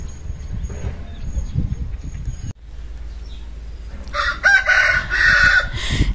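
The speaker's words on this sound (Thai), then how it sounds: "เสียงไก่เสียงนกเสียงอะไรสารพัดเลยค่ะ" Rooster crowing with chickens clucking, heard around a home in Pak Chong, Thailand; the crow is loud and close, running through the last two seconds over steady outdoor background noise.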